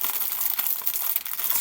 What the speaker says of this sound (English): I did say I'd stop rustling, but you know I lied.